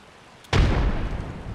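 A frag grenade explodes in the video game Predator, one sudden heavy boom with a deep rumbling tail that lingers, loud and fairly close.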